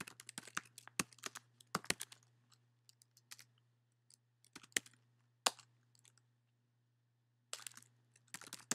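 Bursts of keystrokes on a computer keyboard as a command is entered, crisp close clicks in quick clusters separated by short pauses, with no speech.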